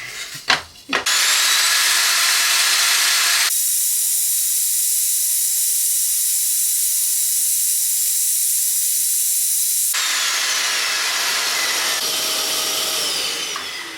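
A table saw cuts wood with a loud, continuous whine, dipping in pitch repeatedly as the blade bites through the workpiece, preceded by a couple of sharp clicks.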